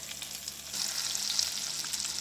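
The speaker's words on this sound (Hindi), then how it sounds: "अब हमने एक साइड पे फ्राई पैन रखा है और हल्का सा हमने ऑयल डाला है और इसको हम डालते जाएंगे" Chicken and potato kababs fry in a pan of shallow oil, a steady hissing sizzle that grows a little louder partway through and carries on without talk.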